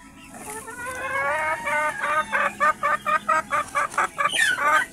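Free-range Rhode Island Red and Brahma native chickens cluck up close, starting with drawn-out calls that turn into a quick, regular run of loud, clipped clucks.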